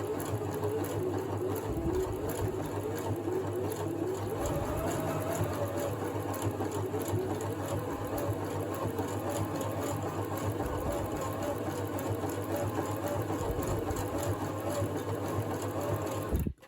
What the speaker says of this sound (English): Maybe a more expensive sewing machine or better needles wouldn't bend so much.